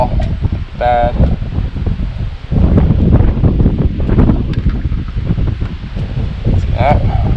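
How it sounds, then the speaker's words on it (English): Gusty wind buffets the microphone in a steady low roar outdoors while framing greenhouse rafters, with a voice speaking briefly underneath. "It's windy."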